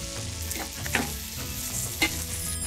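Onions sautéing with garlic and ginger in a pan, a steady low sizzle with a couple of brief stirring clacks, close and moderately quiet with no talking.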